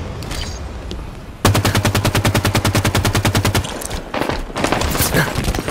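Rapid automatic gunfire in the Halo 5 Warzone shooter, a loud sustained burst of evenly spaced shots followed by more ragged volleys, with faint voices in the background.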